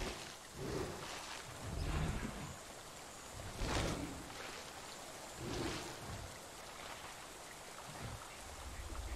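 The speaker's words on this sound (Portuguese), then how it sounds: "Não sei se a chuva tá mais fraca ou não." Steady rain hisses across the whole recording, swelling into heavier gusty washes about every second or two and easing between them. No one speaks.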